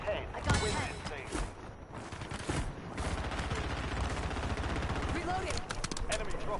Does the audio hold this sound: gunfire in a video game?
yes